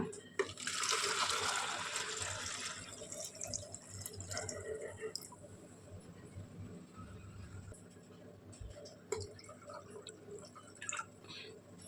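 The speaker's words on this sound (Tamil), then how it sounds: "தண்ணி ஊற்றிக்கலாங்க" Water is poured into an old jar, starting with a bright splashing pour that fades after a few seconds into scattered drips and small clinks, fairly quiet and close.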